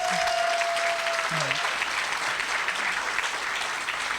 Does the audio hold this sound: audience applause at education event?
yes